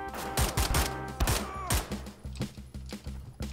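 Rapid bursts of gunfire in Wolfenstein 3D, played within Wolfenstein: The New Order, crackle in quick volleys, loud and punchy, with a few scattered single shots trailing off.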